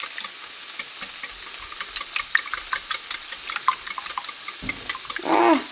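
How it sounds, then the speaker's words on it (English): Eggs whisked in a bowl for an omelette, a steady run of light, rapid clicks and taps of the whisk against the bowl, close and fairly quiet, ending in a brief louder scrape. "I'm going to whip those up until all the yolks are broken and everything's well blended"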